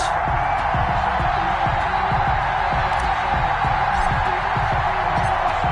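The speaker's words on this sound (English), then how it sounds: "This crowd is ready as their guys get set to match up between the Detroit Lions and the Green Bay Packers." Stadium crowd noise from an American football video game, Lions versus Packers at Lambeau: a steady, dense roar of fans with rhythmic low thumps underneath, continuous throughout.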